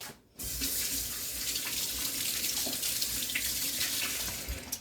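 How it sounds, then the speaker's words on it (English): Running kitchen tap water splashes over hands being rinsed at a sink while making crockpot spinach artichoke dip; a brief pause, then a steady, close, continuous flow with no talking. "Let me rinse my hands off."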